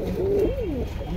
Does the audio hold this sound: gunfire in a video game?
no